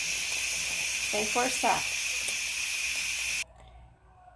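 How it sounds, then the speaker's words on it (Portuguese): A pressure cooker that has just cooked garlic vents steam on its own as a loud, steady hiss that cuts off abruptly near the end, with someone speaking briefly over it. "Agora a pressão vai sair sozinha,"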